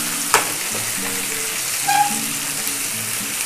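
Chicken tangdi kebab drumsticks frying in a pan, a continuous close crackling sizzle with a couple of sharp pops and clicks from the utensil.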